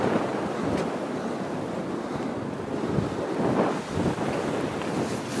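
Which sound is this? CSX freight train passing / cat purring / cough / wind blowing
wind blowing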